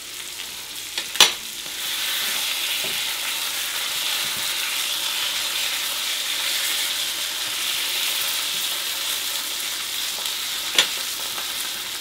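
Sockeye salmon fillets sear skin-side in a hot pan, a steady broad crackling sizzle running throughout at close range, with two sharp clicks near the start and end.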